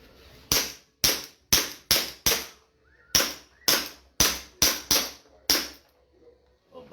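About a dozen sharp gunshots fired outdoors, each a loud crack with a short decaying tail, spaced roughly half a second apart in quick bursts before the firing stops.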